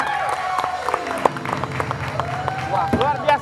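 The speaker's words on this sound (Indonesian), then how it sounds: "Kasih tepuk tangan" A studio audience at a talent show applauds with scattered, uneven claps that swell and fade under voices talking over the noise.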